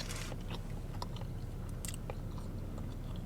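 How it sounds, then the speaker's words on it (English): Close, quiet chewing of a sourdough egg and Swiss cheese sandwich, with soft crunchy bites and mouth noises repeating irregularly over a faint background hum. "I hope I can eat this whole sandwich."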